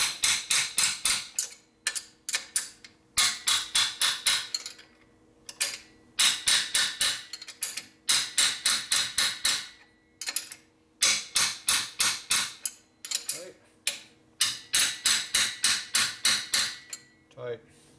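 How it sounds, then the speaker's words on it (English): Rapid bursts of hammer blows on the top end of a 1980 Harley-Davidson FXE Shovelhead 92ci stroker engine during a rebuild, struck in quick groups of about eight to ten with short pauses between, close and loud. "Guess we use hammer torque."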